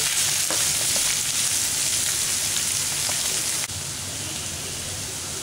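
Onion, green chili and curry leaves sautéing in hot oil for lamb liver masala, a dense rain-like sizzle with a few faint stirring taps, steady and close, dropping slightly in level partway.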